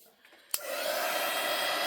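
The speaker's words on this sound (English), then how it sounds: "dry this, because this is my heat tool" A click, then a loud, steady blowing whoosh of a small crafting heat tool running continuously, close by.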